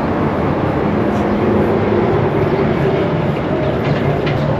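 A hypercoaster train climbing the lift hill, a loud continuous mechanical rumble with faint clicking and a steady drone, running evenly without pause and no talking.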